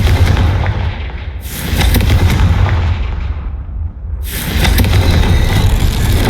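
A Confringo fire spell in Hogwarts Legacy blasts twice in a row, each a loud, heavy, sustained booming roar close up, with a short lull between them.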